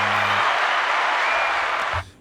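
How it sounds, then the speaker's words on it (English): Applause dropped into a sports talk show intro, a burst of dense crowd clapping, loud and steady for about two seconds before cutting off abruptly. "Put some claps in there, man."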